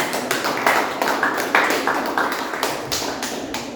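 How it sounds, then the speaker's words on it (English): A small audience at a Millennium City Toastmasters meeting claps for Toastmaster Ankit, with distinct, steady hand claps at a fairly even pace, moderately close and unaccompanied by talk. "A big round of applause for Toastmaster Ankit."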